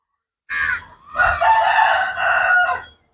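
A rooster crows once, loud and close: a short opening note, a brief pause, then a long drawn-out call tapering off.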